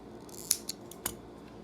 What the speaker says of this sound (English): And we're gonna cut the yarn